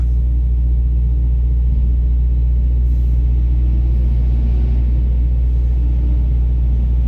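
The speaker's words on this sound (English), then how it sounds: "The receiver's truck's going out." A truck pulls out of a busy loading dock at night, its engine a steady, deep rumble that holds level and fairly close throughout, with no voices.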